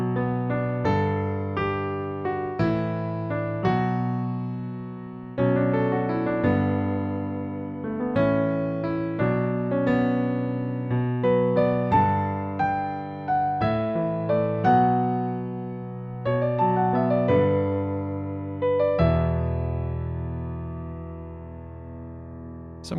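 Piano intro, played as a steady run of repeated chords under a right-hand riff, clear and solo with no voice over it.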